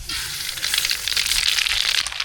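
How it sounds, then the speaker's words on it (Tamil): Dense, steady crackling and sputtering of mustard seeds popping in hot oil for tempering rice, continuous and close, with no voices. "எண்ணெய் சூடாயிடுச்சு கடுகு சேர்த்துக்கலாம்"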